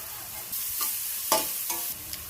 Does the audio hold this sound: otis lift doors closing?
no